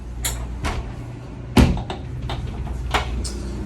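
Sliding glass shower doors in a 2022 Renegade Verona LE 40LTS motorhome rolling and bumping open, a sharp knock in the middle among lighter thuds and rattles, close by with no talking.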